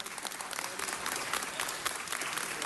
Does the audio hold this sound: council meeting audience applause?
yes